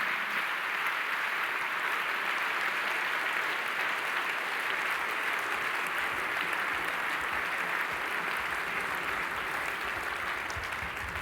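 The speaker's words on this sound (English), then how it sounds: "let's keep it with an applause" Audience clapping at a business forum event in Switzerland after a speaker's talk, a sustained, even wash of applause from a large crowd, continuous and moderately loud from start to finish.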